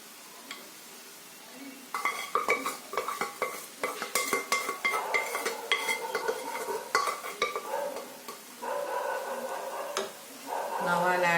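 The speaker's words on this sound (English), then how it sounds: "So now we'll add in the dal, that is the cooked moong dal." Cooked moong dal goes into a pan for a dal gravy, followed by repeated metal spoon scrapes and clinks against the cookware with a soft sizzle, loud and close in uneven bursts.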